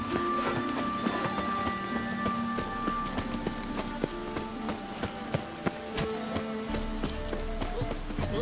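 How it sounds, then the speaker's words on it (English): Steady rain patters across The Witcher 3: Wild Hunt soundscape, with scattered sharp ticks and clops over a low constant rumble and a faint tonal hum. "Raining again."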